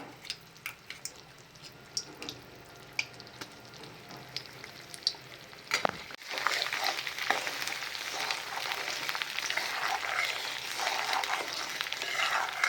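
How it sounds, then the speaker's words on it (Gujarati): Jaggery and ghee stirred together in a pan with cream for Gujarati broken wheat sukhadi: a quiet start with scattered scrapes and clicks, then a steady loud sizzle and bubbling from about six seconds on. "આ રીતે હલાવતા જવાનું છે। ગોળ ને ઘી એક થઈ જાય એ રીતે કરવાનું છે।"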